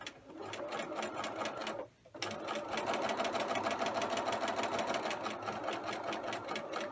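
A sewing machine stitches a self-lined patch pocket with a rapid, even mechanical chatter, pausing briefly for a moment before resuming at a steady pace close to the microphone.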